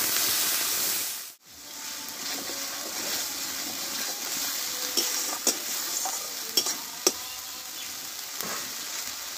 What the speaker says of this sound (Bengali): মশলাগুলো একসঙ্গে ভালোভাবে কষে নেব।